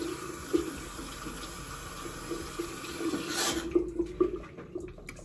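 Water runs steadily from a bathroom tap to wet a Vanity Planet facial cleansing brush, a close, continuous hiss that stops about halfway through and gives way to a few soft handling clicks.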